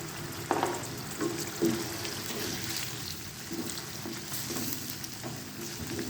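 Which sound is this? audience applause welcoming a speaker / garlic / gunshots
garlic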